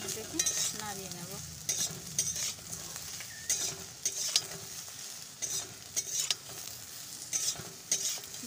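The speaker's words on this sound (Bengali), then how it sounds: "লবণ হলুদ দিয়ে ভালো করে এবার এটাকে নাড়িয়ে নেব।" Potatoes frying with salt and turmeric are stirred repeatedly, with rhythmic spatula scrapes and clinks against the pan over a continuous close sizzle.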